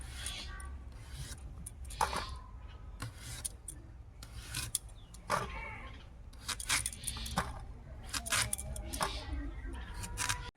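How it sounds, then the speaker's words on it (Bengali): Taro being cut with a knife in a home kitchen, heard as irregular close rasping, scraping and knocking strokes that continue throughout. "এটাও এইভাবে কেটে নেব।"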